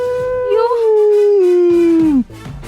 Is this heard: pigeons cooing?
no